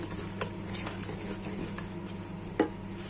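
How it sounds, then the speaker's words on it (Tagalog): Spaghetti sauce stirred in a pan, a soft low scraping and gentle bubbling sizzle close by, with a few light knocks of the spoon against the pan. "Haluin po natin."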